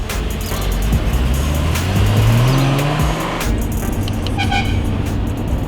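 A Ferrari Testarossa out on a test drive after mechanical work, its engine a loud, steady close-up drone with a rising pitch sweep midway and no voices over it.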